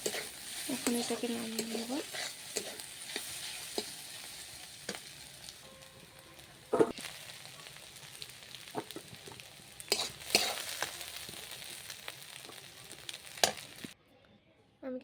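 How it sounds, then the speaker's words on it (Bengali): Egg mixture is stirred and fried in a pan, a steady sizzle broken by scraping stirs and clinks; someone speaks briefly, and the sound cuts to silence near the end. "দেখো ডিমটা কিন্তু এর সাথে ভালো করে মিশিয়ে ভেজে নিচ্ছি।"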